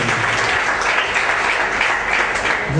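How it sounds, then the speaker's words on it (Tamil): Loud, continuous applause from a congregation at a Tamil Christian sermon, dense hand clapping filling the whole stretch without a break. "உற்சாகப்படுத்துங்க, கைத்தட்டி."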